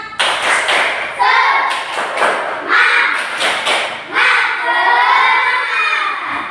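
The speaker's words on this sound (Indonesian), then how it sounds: "Oke, tepuk semangat." Schoolchildren in a classroom perform a rhythmic spirit clap, bursts of patterned clapping and thumps mixed with shouting voices, loud and close, repeating in short rounds.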